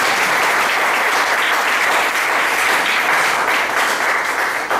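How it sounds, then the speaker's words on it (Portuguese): A congregation at a church service applauds loudly and steadily throughout, a dense wash of clapping with no pauses. "dê novamente ao Senhor uma salva de palmas"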